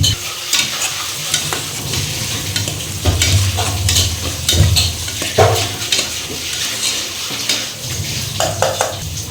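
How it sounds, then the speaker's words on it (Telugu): Soaked chana dal being stirred into half-cooked frying onions for a mushroom curry, with constant close sizzling and repeated scraping of a spoon against the pan throughout. "ఇప్పుడు పచ్చిశనగపప్పు నానబెట్టుకున్న పచ్చిశనగపప్పు వేసుకుని మిక్స్ చేసుకుందాం"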